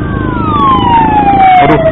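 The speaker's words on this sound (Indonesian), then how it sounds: "Aduh, apa nih? Ambulan." An ambulance siren wails past in traffic, heard from a motorbike; its pitch slides steadily downward as it goes by, loud and close, over constant road and engine rumble.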